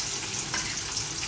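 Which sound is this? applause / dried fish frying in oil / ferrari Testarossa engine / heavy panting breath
dried fish frying in oil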